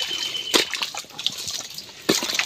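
Water flowing and sloshing in a mangrove swamp during purple crab hunting, with a steady wet trickle and two louder splashy surges, close by.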